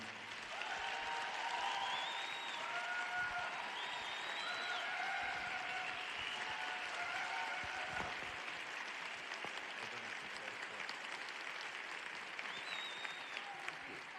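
Sustained audience applause welcoming Dr. Daniel Amen on stage at a Freedom Night event, a dense steady clapping crowd that holds evenly for the whole stretch, with a few faint cheers over it.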